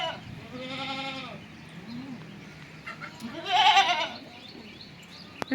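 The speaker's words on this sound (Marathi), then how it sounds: "तुला आवाज येते ती शेळीचा" Two clear goat bleats ring out on a rural farm, one early and a louder, quavering one later, close by with only light background noise between them.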